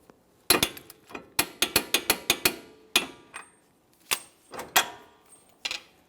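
A ratcheting torque wrench tightening a lower control arm bolt on a 2014-2018 Mazda 3, with rapid close clicks in quick bursts, then a few slower separate clicks.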